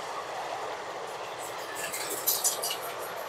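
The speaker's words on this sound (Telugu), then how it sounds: "ఫుల్ స్పీడ్గా వెళ్తుంది సార్ ఆ ట్రైన్" The Simhadri Express rushes past at full speed near a village, a steady rolling rumble with rising rattling clatter toward the end.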